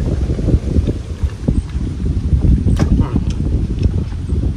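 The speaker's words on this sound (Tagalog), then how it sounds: "Mahangin mga bi, sariwang hangin." Fresh wind gusts outdoors at a seaside spot, a continuous low rumbling buffet across the microphone with a few faint clicks and knocks mixed in.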